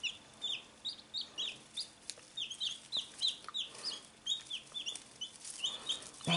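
A hen with newly hatched chicks: rapid high peeping from the chicks in short repeated bursts over soft low clucking, close and quiet with no voices.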